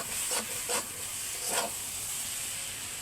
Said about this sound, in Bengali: মশলাগুলো দিয়ে একসাথে ভালো করে নেড়ে